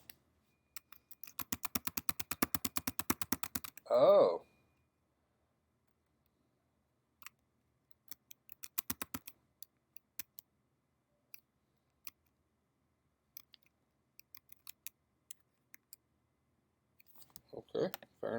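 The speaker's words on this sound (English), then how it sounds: "What if you start typing it in" Bursts of typing on a computer keyboard, a rapid run of key clicks followed by scattered single taps and short flurries, close and moderately loud, with a brief spoken exclamation between them.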